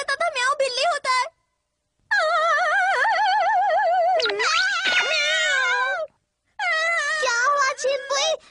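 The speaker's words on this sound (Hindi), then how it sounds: "मुझे नहीं पता था म्याऊं बिल्ली होता है।" A cartoon cat in the Chimpui cartoon meows in long, wavering, exaggerated cries, three loud bursts separated by short silences, with a brief harsh squawk in the middle.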